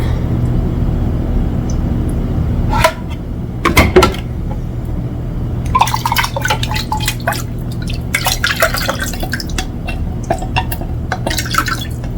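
Liquid poured out of a pan drips and trickles in irregular bursts over a constant low hum. The pouring splashes come and go, close and fairly loud.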